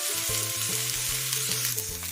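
Onion and ginger sauté in a pan for vegetable cutlets, giving a steady close sizzle with soft stirring sounds throughout and no talking.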